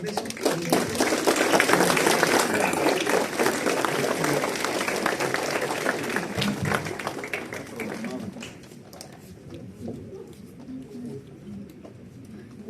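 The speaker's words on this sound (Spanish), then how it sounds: "un fuerte aplauso para este esfuerzo del Congreso" An audience at a book presentation gives loud, dense applause that swells early and then slowly fades out, leaving a quieter room toward the end.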